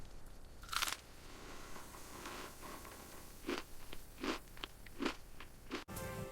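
Crispy dosa and kichadi being eaten, with several sharp crunchy bites and chewing spaced over a few seconds, close and without talk.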